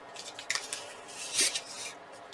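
Scissors snip through a strip of paper for a scrapbook layout, giving a few close, crisp cuts in quick succession, followed by a brighter longer slice and soft rustling.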